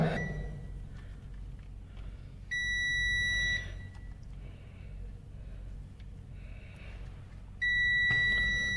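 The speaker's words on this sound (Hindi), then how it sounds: "अभी हमने अपने रेट से रेट लगाया तो ऑलमोस्ट 0 ओम्स हो गया और बजर बजने लगा।" A multimeter's continuity buzzer beeps as its probes touch the two ends of a wire. Two steady, loud electronic tones come about five seconds apart, the second cut off at the end, with a low hum in between.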